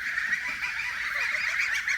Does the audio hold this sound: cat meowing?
no